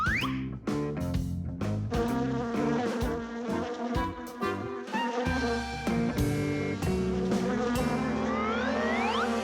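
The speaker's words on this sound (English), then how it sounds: "Here, little bee. Fly this way." Cartoon bee buzzing amid a busy animated music score, the insect whine weaving through tonal layers with rising sweeps, steady and fairly close throughout.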